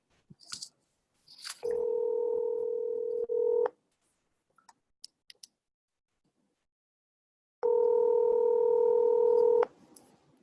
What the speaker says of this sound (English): I'm dialing right now.